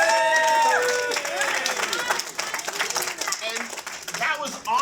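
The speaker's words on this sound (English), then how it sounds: "Let's give him a big round of applause." A crowd at a horror convention's weird-science stage show claps and cheers, loud and busy, with whoops, shouts and voices layered over the applause throughout.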